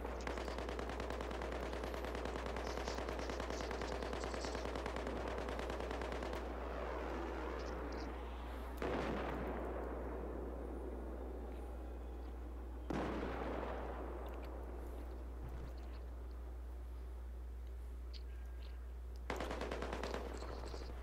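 Rapid automatic gunfire from a PS4 shooter game, loud and sustained in dense bursts, with several abrupt cuts where new volleys start, mixed over a steady low hum and with no talking.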